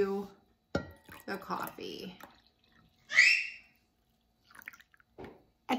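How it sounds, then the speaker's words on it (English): Pumpkin spice mixture is poured into coffee in a mug in one short, close liquid splash between quiet spoken remarks. "I'm then going to add our mixture, pour that right into"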